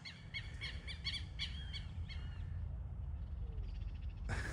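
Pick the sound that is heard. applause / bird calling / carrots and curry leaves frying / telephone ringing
bird calling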